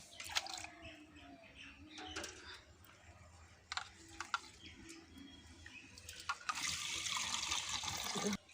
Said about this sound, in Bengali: এই যে জল নিয়ে নিয়েছি ভালো করে খুদ ধুতে হয়